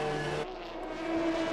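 Race cars battle wheel to wheel on the track during the 2018 4 Hours of Le Castellet endurance race, a loud, steady engine whine with sustained tones that shifts in pitch partway through.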